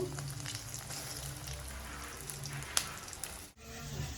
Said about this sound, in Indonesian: Goreng pentol hingga kering